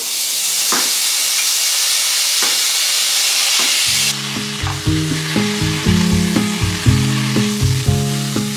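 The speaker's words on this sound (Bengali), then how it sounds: "চালটা এখানে অ্যাড করবো আর একটু নাড়াচাড়া করে নেবো" Gobindobhog rice stir-fried in a pan with whole spices and ginger paste: a steady loud sizzle with a few scraping stirs, then the hiss thins and clinking, tonal stirring knocks take over, with no one talking.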